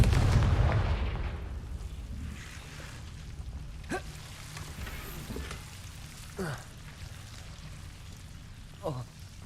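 Confringo fire-blast spells are cast in Hogwarts Legacy on PS5: a rumbling burst opens, then several short whooshing zaps fire at intervals over a steady hiss.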